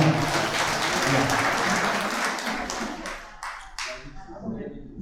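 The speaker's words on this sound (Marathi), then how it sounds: "श्री विश्वनाथ बाजीराव जाधव, कैलास गोपीनाथ रोगडे, श्री बापूसाहेब दिघे यांच्याकरता जोरदार टाळी वाजवा" Applause at a public Hari kirtan gathering in Trimbakeshwar fills the start as a dense wash of crowd clapping, tapering into scattered claps and a few sharp late slaps.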